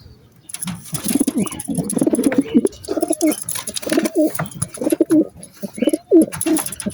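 Pigeons coo in a steady series of soft, rounded, rolling calls, fairly close and clear, repeating with short gaps against a quiet background of faint rustling.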